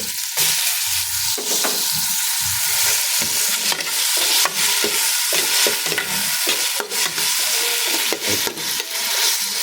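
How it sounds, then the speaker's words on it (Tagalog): Kimchi fries in a hot pan with a loud, continuous sizzle, broken by scraping and stirring noises throughout. "Ayan, lagay natin ating kimchi."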